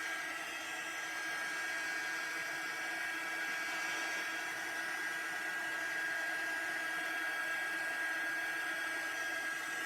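A heat embossing tool blows hot air in a steady, loud whirring hiss that stays constant throughout, with no voices over it.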